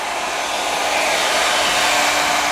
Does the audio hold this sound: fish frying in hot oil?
no